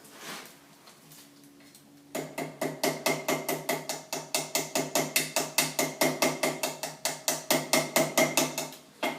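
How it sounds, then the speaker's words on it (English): Rapid, evenly spaced hammer taps peen a pin on a straight razor, the side with a washer, striking close and alone at a steady rhythm after a quiet start with a faint hum. "I'm going to go ahead and peen the side with the washer"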